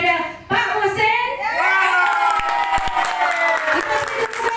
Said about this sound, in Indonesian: Kita beri tepukan kepada Pak Hussein.